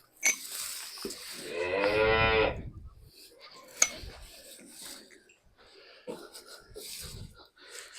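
A cow lets out one long, deep moo near the start, followed by quieter talking voices and rustling nearby, at a cattle sale in a Punjab village with a calf present.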